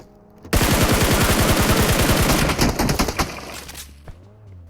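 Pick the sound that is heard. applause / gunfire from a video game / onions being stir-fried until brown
gunfire from a video game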